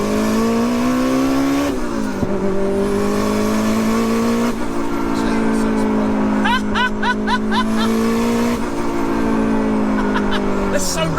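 A big-turbo Toyota MR2 sleeper engine revs hard while driving, climbing and falling through several gear changes with a loud, sustained tone and turbo flutter bursts, under occasional talk.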